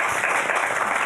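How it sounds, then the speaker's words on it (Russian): A brief burst of dense applause at a televised Designer's Day event in Gomel, many hands clapping together in a loud, continuous wash. "Еще раз вам аплодисменты и вашему мастерству."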